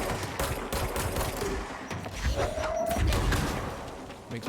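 Gunfire in the video game Control, rapid bursts of shots and impacts close up, with a steady rumble of action behind them.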